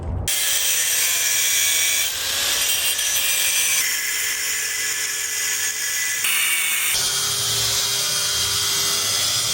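Power tool cutting into steel roll bar tubing for a Miata, a loud continuous high grinding whine that shifts pitch in stages as the tool bites, close and sustained, no talk.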